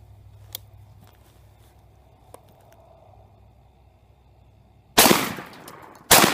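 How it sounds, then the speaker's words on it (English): Two loud blasts from a Franchi Affinity 3 shotgun firing basic target loads, the first booming out after a quiet stretch with faint handling clicks and the second following about a second later. "I'm going to take a couple of shots with the Franchi."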